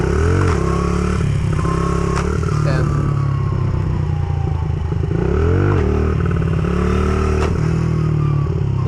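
A motorcycle engine revs and surges under throttle during wheelie stunt practice, loud and close, with steady engine drone, rising and falling pitch sweeps, and some clatter throughout.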